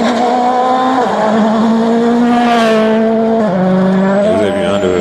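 A Ford Fiesta rally car at the Rally de Catalunya roars close and loud, its engine pitch rising and falling through gear changes, with a brief tire squeal or skid near the end.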